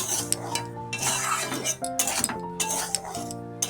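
A spoon stirs semolina that is lightly toasting in a metal pan for a spicy suji dish. The scraping comes in rhythmic strokes, broken by sharp close clinks of metal on the pan's rim.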